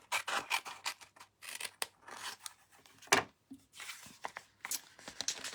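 Scissors cutting strips of craft paper close by, a run of short crisp snips and rustling paper with small pauses between cuts, no voice.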